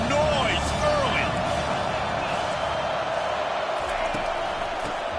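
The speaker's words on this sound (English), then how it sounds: "This crowd bringing the energy and noise early." Dense stadium crowd roar at a college football game, a continuous loud wash of voices and cheering filling the whole stretch with scattered shouts rising above it.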